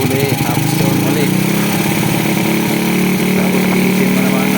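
A Honda Wave 100 motorcycle engine idles loudly and close while its carburetor is being tuned, a steady buzzing putter that holds an even rhythm throughout.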